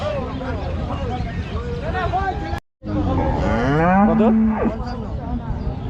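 Cattle moo repeatedly at a busy livestock market in Rajshahi city, with several loud, close calls and one long, drawn-out low moo, over a constant babble of crowd chatter.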